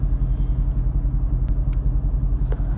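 A Mercedes-AMG GT 63 with around 600-700 horsepower gives off a deep, steady engine rumble, close by and continuous with a slight pulsing throb, and no voices.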